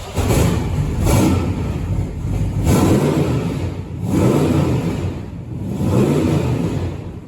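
A 1978 anniversary C3 classic car with a 7.5 litre V8 and massive side pipes starts up and revs in several loud, close surges, the rumble rising and falling with no talk over it.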